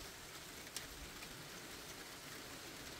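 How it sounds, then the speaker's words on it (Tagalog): Rain falls as a steady, soft, even hiss during snowy weather in Takayanagi, Niigata, faint and continuous with one small drip-like tick and no voices. "Raining. It's raining."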